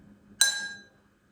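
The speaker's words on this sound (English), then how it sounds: "Now I'm going to play the glass with the water in it." One tap on a glass holding water produces a clear, bell-like ring, slightly lower and mellower than an empty glass, decaying quickly in a quiet room.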